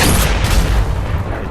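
A single heavy, booming sniper rifle report fills the moment in the VR shooter Sniper Elite VR on Oculus Quest 2, loud and close with a rumbling low tail.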